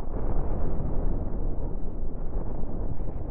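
A missile explodes in Cosmoteer as a loud, dense, roaring burst of rumbling noise that holds steady for a few seconds without a distinct pause.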